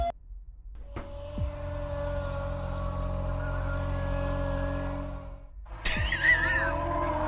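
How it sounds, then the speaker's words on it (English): A video game monster makes a steady droning hum like a vacuum cleaner throughout, with a brief dip before a harsher, louder whoosh swells back in near the end. "Why does it sound like a fucking vacuum?"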